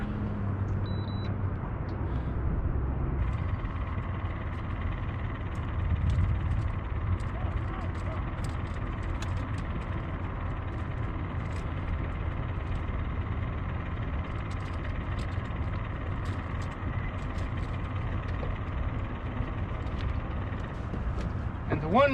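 A boat's electric trolling motor running at setting 2 for slow trolling in a large cove, giving a steady low hum that continues throughout with faint water and wind noise.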